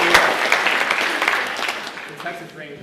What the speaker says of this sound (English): everybody gives Chuck Norris a round of applause